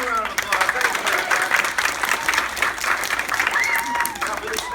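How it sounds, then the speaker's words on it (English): An audience at a school assembly music performance claps steadily as a round of applause, fairly close, with scattered voices and a faint whistle mixed in. "give him a round of applause"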